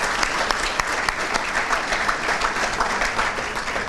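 A hotel banquet audience at a city address bursts into steady, dense applause, many hands clapping at once, sustained and fairly loud throughout.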